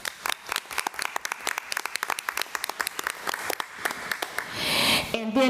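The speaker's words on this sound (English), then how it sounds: "please give these organizations a round of applause for their generosity to the Colleton County School District." Applause from attendees at a school district board meeting, a scattering of separate claps that build into a fuller burst near the end, with some talk mixed in.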